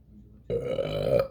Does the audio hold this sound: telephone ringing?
no